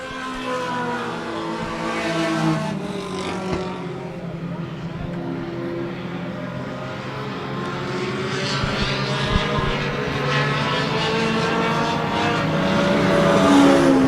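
Outlaw Mini race cars run on a track, their engines a continuous whining drone with pitches sweeping up and down as cars pass, growing louder near the end.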